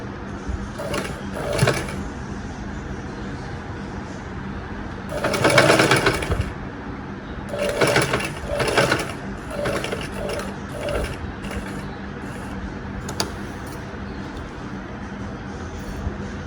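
A sewing machine stitches a folded frill on a saree in several short rattling bursts with pauses between, close and mechanical over a faint background hum.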